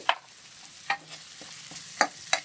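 Crab curry masala with turmeric is stirred in a pan, a spoon scraping and clacking in several quick, close strokes over a low sizzle, with no voices.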